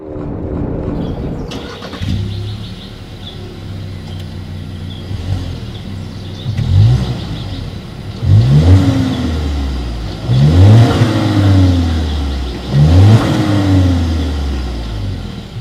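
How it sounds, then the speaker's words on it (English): A Volkswagen Tiguan R-Line with dual chrome-tipped exhaust outlets starts up and then revs repeatedly, each blip rising and falling in several loud bursts recorded close to the tailpipes, with no talking. "As always, here is that exhaust clip."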